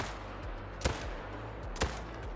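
Two sharp, loud Hansen .30-06 hunting rifle shots sound about a second apart in a hunting video game, each a clean crack over a low steady background hum.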